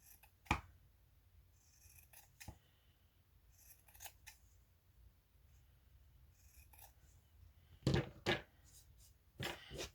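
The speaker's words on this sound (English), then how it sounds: "you just cut about 1/4 of an inch all the way around." Scissors snip fabric around a sewing hexie, trimming about a quarter inch of seam allowance: faint, sparse snips and rustles, some in quick clusters, in a quiet room with no talking.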